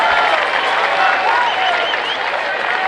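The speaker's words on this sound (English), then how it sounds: "Crowd behind every pitch now." A ballpark crowd at a HarbourCats versus Black Bears baseball game cheers and applauds in a steady, dense roar. It carries on without a break for the whole stretch, with a faint whistle or voice rising now and then.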